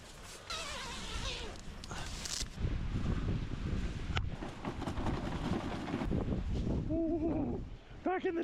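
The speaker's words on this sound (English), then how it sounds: "That wind's picking up." Strong blizzard wind buffets a hot tent at a winter campsite, a steady loud roar with gusting rumble and flapping fabric throughout, and a voice briefly exclaims near the end.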